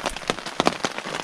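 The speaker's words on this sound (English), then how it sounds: "the rain continued. It's still continuing." Rain pattering on a tent while camping in the Boundary Waters, with irregular close drops tapping in quick uneven succession, alone and without talk.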